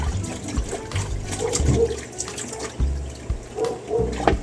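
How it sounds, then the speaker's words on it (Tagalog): Pork is rinsed under running water in a sink, uneven splashing and gushing in short bursts as the pieces are handled, loud and close. "Siyempre, hugasan ulit natin."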